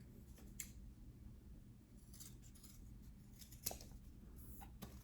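Scissors snip through backpack fabric in a quiet indoor setting, a series of faint, close cutting strokes spaced unevenly over several seconds with no talking.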